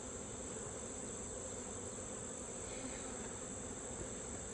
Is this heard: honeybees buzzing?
yes